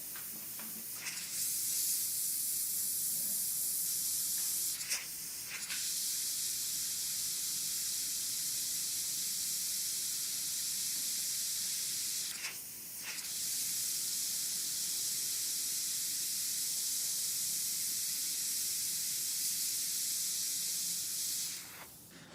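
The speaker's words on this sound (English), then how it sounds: "now I'm going to use the white airbrush paint that's thinned down" Airbrush spraying thinned paint at very low pressure onto a sculpted maquette, a steady close hiss running nearly the whole time, cut by a few brief pauses.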